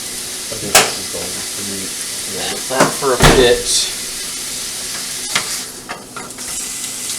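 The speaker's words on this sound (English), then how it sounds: "Sizzling meat just kills the camera." Meat sizzles and fries in a pan at home while breakfast is cooked for dinner, a steady hiss under bursts of stirring and clattering utensils, with someone speaking briefly nearby.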